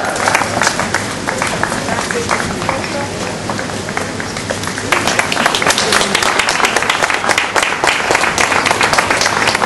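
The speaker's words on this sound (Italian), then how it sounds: "L'applauso del giudicante" Audience applause at a women's elite cycling race award ceremony in Trentino, a dense, steady wash of clapping from a crowd that swells louder halfway through and keeps going without pause.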